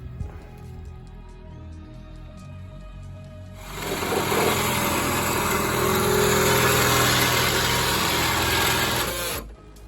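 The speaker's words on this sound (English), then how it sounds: "We're just drilling out the rest of the holes." A loud, steady high-pitched power drill whine runs continuously for several seconds while drilling bolt holes to mount a roll bar in a Mazda Miata, starting abruptly after quieter ambient noise and cutting off near the end.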